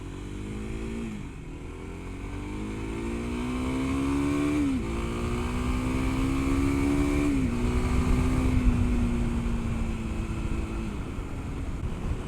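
A 2022 Kawasaki KLX300 dual sport motorcycle engine revs up and down through several rising sweeps, loud and close, with a steady idle rumble beneath and no talking.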